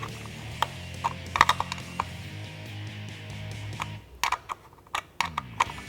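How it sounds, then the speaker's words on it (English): A ratchet wrench from a caliper cover kit tightens a bolt on a Ford Mustang, giving a string of sharp ratcheting clicks in quick irregular bursts, close and fairly quiet, over a faint low hum. "Now I'm going to take our wrench that they supplied in the kit."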